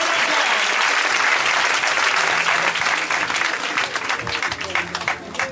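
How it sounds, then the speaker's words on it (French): A church congregation at a Sunday morning sermon breaks into loud, sustained applause that thins into scattered claps toward the end, with a voice faintly audible underneath. "Acclame la parole de Dieu très fort ce matin."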